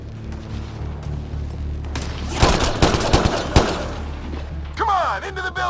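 Gunfire in the video game Mass Effect: rapid bursts of loud shots and cracks clustered in the middle, over a low rumbling background, with a voice speaking over the action.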